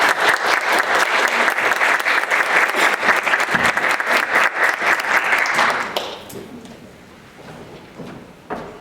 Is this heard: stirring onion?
no